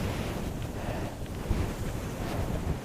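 Strong headwind roars across the microphone during a bike tour ride in South Korea, a constant, loud, buffeting rush with no voices.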